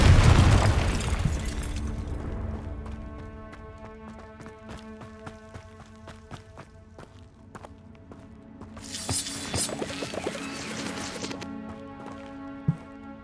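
Confringo fire spells blasting in Hogwarts Legacy: a heavy booming burst at the start, then a second crackling explosion midway, set against sustained orchestral game music.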